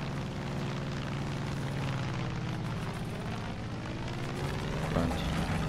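A propeller airplane in the Far Cry 5 video game gives off a steady, rumbling engine drone that holds level throughout, with a slight swell near the end.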